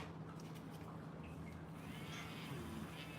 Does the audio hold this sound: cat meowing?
yes